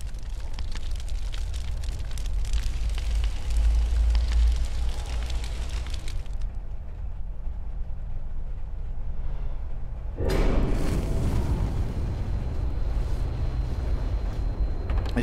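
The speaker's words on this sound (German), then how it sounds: "Ah, das ist Feuer." Crackling, roaring fire in the horror video game Layers of Fear, a steady broadband rush that drops away briefly mid-way and then returns loud and close.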